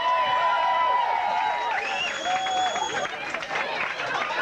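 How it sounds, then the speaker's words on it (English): A pub crowd applauds a contestant arriving at a Blind Date event at the Deers Leap, with steady loud clapping mixed with cheers and chatter throughout. "Give her a round of applause."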